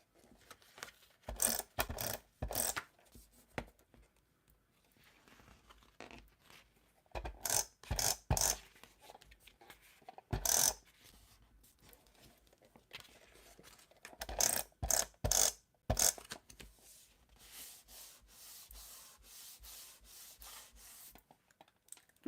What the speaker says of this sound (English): I'm going to sew on here and then I'm going to sew my circles.